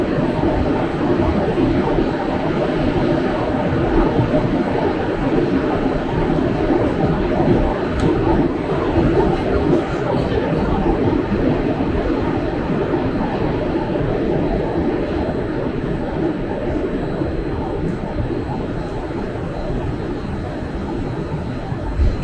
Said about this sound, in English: That would be our train.